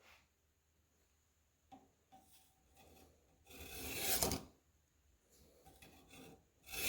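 A Spyderco Police folding knife is stroked against the stones of a Warthog sharpener, making a few separate raspy scraping passes. The strokes are quiet at first, then one longer, louder grind rises in the middle, with more passes toward the end.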